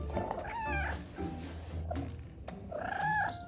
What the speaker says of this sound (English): a nervous kitty cat.